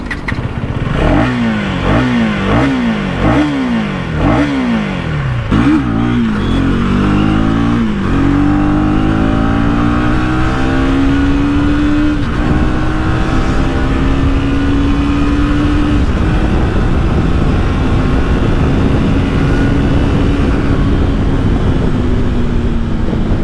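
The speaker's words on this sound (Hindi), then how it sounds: "तो आपको मैं एग्जॉस्ट की साउंड सुना दूँ।" A 2024 KTM Duke 250 motorcycle revved hard in a series of quick, loud throttle blips close by, then held at a steady high rev that slowly winds down.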